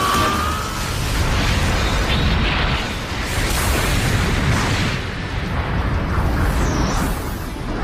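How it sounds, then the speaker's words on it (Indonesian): Continuous roaring laser blasts and explosions from a Dragon Ball animated battle rumble without pause, dense and loud, with a whooshing energy-beam sweep near the end. "saling menembakkan tembakan laser secara bertubi-tubi hingga membuat ledakan yang"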